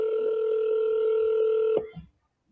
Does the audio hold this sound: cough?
no